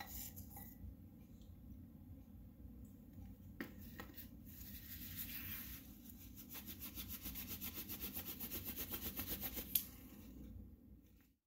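Shellac-coated chess figures being polished by hand, a steady close rubbing and scraping that builds into a fast rhythmic back-and-forth toward the end, with a sharp knock near the close.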